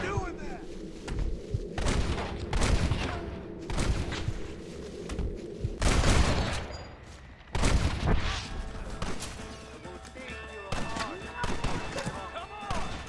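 Gunfire rattles through a gate assault in Red Dead Redemption: repeated loud shots and heavy booms in irregular bursts, with brief lulls between volleys.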